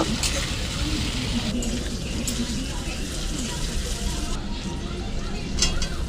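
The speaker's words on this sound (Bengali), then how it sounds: "এবার একটু ভেজে নেব, আলু আর কাটি কচুটা ভালো করে ভেজে নেব" Potatoes and taro fry in a pan with turmeric and salt, giving a dense, continuous sizzle with scraping and stirring throughout, and faint voices beneath.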